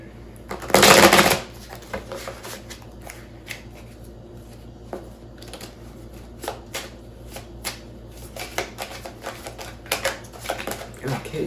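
Tarot deck shuffled by hand to draw a card: one loud riffle burst at the start, then soft intermittent card flicks and taps, with a voice speaking over it.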